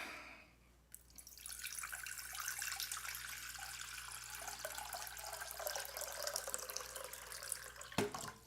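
Water from a kitchen tap pours steadily into a pan for boiling eggs, starting with a splash and then a constant, close hiss and patter for several seconds before it shuts off abruptly.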